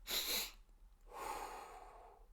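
A slow, deliberate breath taken consciously: a sharp inhale through the nose followed after a pause by a longer, softer exhale, close and alone.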